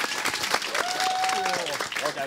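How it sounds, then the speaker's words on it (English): An audience at a leadership race results event breaks into a round of applause, a dense burst of clapping with a voice speaking over it. "Let's give them a round of applause."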